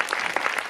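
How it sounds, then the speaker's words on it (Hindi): Brief burst of congregation applause at a Hindi-language Christian church sermon, dense hand clapping filling the moment, loud and close. "जोरदार तालियां मेरे आका के"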